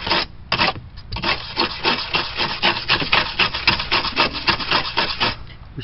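Stiff brush scrubbing and scraping loosened rust from a car body panel, loud close strokes in a steady back-and-forth rhythm, with no talking.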